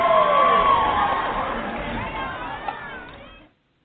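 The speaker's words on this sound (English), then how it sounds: "let's give a round of applause for Justin Jacobson, Attorney" A studio crowd cheers and applauds to welcome esports attorney Justin Jacobson as a guest, a canned-sounding wash of clapping and whoops that fades out over a few seconds before cutting to silence.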